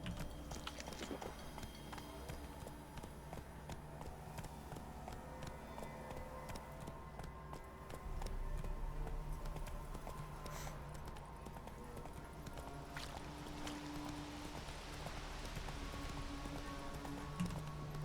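Horse hooves clip-clopping steadily in Witcher 3, a continuous close rhythmic patter of hoofbeats over a busy game soundscape, with no talk over it.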